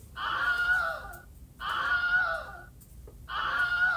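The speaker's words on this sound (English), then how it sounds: "We got a scream button." A scream sound effect triggered from a button, played three times in a row: loud, drawn-out screams separated by short pauses.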